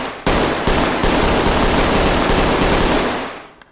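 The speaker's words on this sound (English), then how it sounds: "It has the same firearm sound as the other rifle we were just looking at" Rifle gunfire in the tactical shooter game Ready or Not, loud and sustained as a dense continuous burst for about three seconds before trailing off, with no talk.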